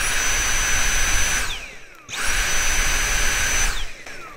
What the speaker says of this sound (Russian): Все, пылесос работает.